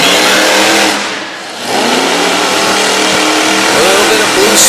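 Monster truck engine revving hard during a freestyle run at a monster truck show in Brookville, Pennsylvania, loud and close, with one brief dip in throttle before it roars back steadily.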